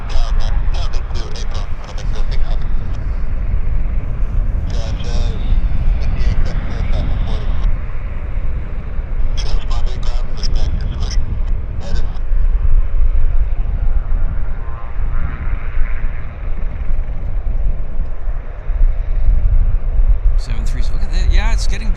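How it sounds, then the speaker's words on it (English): A WestJet passenger jet moving at Vancouver International Airport, a steady broad engine roar in the background throughout, with talk over it. "And another Westjet coming out there in the background."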